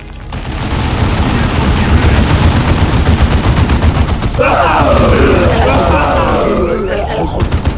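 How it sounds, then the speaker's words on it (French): Dense, continuous automatic gunfire rattles through a Warhammer 40,000 Dawn of War 2 battle against orks, loud and near, with a voice speaking over the shooting partway through. "Ils nous tirent dessus."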